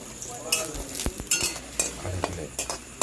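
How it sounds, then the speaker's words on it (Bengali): Hot oil sizzles steadily as lentil dumplings (kalai bori) fry in a wok, while a utensil scrapes and clinks against the pan in irregular knocks, close by with no talking. "কিছু কড়াইয়ের বড়ি আমি ভেজে তুলে নিচ্ছি"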